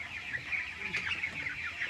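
A flock of 19-day-old chickens on a poultry farm, keeping up a steady stream of close, overlapping chirps and clucks throughout.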